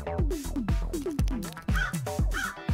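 A crow calls in a rapid series of harsh, close caws, about eight in quick rhythm, loud and alone with no talk.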